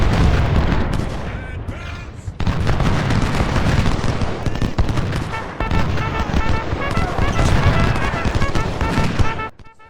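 Artillery in Ultimate General: Civil War firing during the Battle of Bull Run, with repeated booming cannon shots and crackling musketry mixed together in a dense, ongoing battle din.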